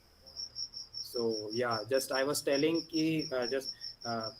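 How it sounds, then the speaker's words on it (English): Crickets chirping as a steady, high, continuous trill running through the whole stretch, sitting under a man's close speech. "that's the sound of insect actually."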